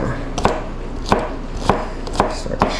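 A knife chops garlic on a cutting board while breadsticks and garlic knots are prepared, giving five crisp, evenly spaced thuds about half a second apart. The chops are close and clear, with no talking.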